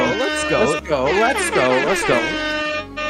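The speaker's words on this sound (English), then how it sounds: "We way overuse that air horn" An air horn sound effect blasts in a podcast studio, loud repeated honking bursts with a wavering pitch sweeping up and down, broken by short gaps.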